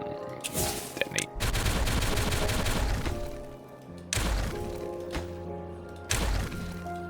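Dynamite detonations in the Timberborn video game, several heavy booming blasts in quick succession with rumbling tails, loud and close, separated by brief quieter gaps, no talking.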